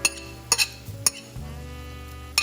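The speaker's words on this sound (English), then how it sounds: "I'm going to stir it one more again, just like that." Bulgogi beef is stirred in a pan with a metal utensil, giving a few sharp clinks and scrapes against the cookware over a low background hum.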